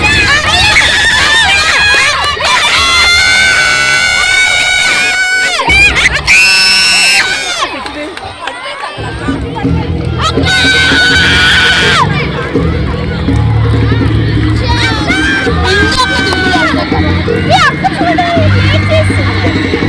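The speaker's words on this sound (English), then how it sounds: "Requested to cheer the participants with a huge round of applause." Crowd at a secondary school sports day in Visakhapatnam cheering, shouting and applauding, loud and continuous for about twenty seconds, with children's screams rising in bursts over a dense babble of voices.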